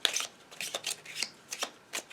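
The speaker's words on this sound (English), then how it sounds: "I don't know why I even shuffle." Close, crisp riffles and ruffling bursts come in quick repeated waves as a deck of playing cards is shuffled by hand, with no voices.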